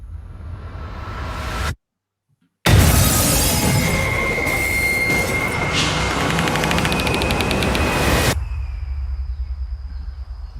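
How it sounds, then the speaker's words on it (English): Bomb explosion from the A Quiet Place 2 trailer, heard after a sudden brief silence as a loud, shattering blast with crackling debris and rumble that lasts several seconds, then cuts to quieter ambience. "A bomb, I think."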